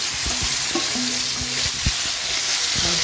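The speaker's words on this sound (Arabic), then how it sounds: "الزيت سخن، هطش الكبده" Alexandrian-style liver dropped into hot oil in a pan, giving a loud, steady, close sizzle of spattering oil with small pops throughout.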